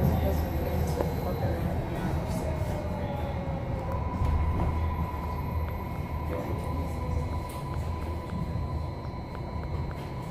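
A MARTA Red Line subway train runs toward North Springs with a steady loud rumble and rolling wheel noise, a faint whine above it, and no break in the motion.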